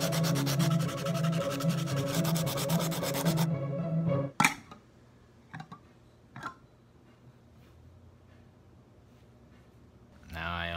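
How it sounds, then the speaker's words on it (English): Sanding along the edges of bottle clubs, a steady dense rasping for the first few seconds that then stops, followed by a few sharp knocks and near silence. "I'm just going to sand down the edges really quickly."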